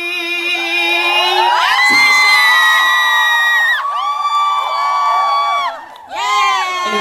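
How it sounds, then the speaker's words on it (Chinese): Concert audience screaming and cheering loudly and continuously, a dense crowd roar with high-pitched shrieks rising and falling, briefly dipping near the end before surging again. "你们尖叫不够大声啊！"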